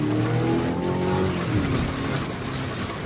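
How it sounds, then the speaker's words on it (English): A 2025 Mazda CX-70 four-cylinder hybrid engine revs steadily and loudly, its slightly rattly tone rising and settling, with no voices over it. "It does sound a little bit rattly like a 4-cylinder when you rev it out"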